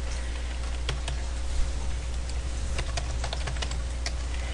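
Steady, close typing on a computer keyboard, with quick clusters of key clicks over a constant low hum.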